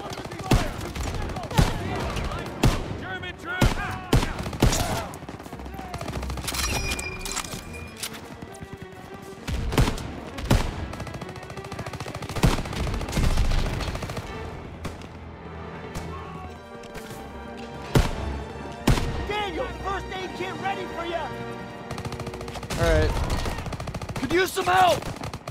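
Heavy gunfire from a tank battle in Call of Duty: WWII, Operation Cobra: sharp rifle shots, machine-gun bursts and loud impacts crack repeatedly throughout, with occasional voices under the barrage.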